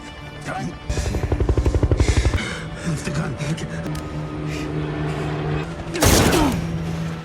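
Gunfire in a shootout from the 2023 film Breakout: a rapid burst of automatic shots, then mechanical rumbling and a loud single blast near the end, heard amid a film soundtrack.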